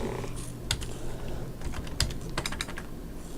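Keys clatter on a computer keyboard during a Unity Playmaker button-setup session, a quick run of close, crisp taps in short irregular bursts with no speech.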